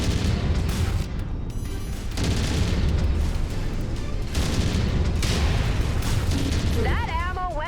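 Mech ammunition cooking off in the game Mechwarrior 5: Mercenaries, heavy booming blasts and rolling gunfire in a dense, loud barrage that runs throughout, with a voice breaking in at the end.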